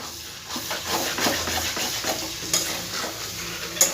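Fish oil chorchori, a Bengali dish, is stirred in a pan over a medium gas flame, with a soft steady sizzle under repeated scraping strokes of a spoon and a couple of sharper metallic clinks.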